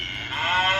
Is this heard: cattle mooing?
yes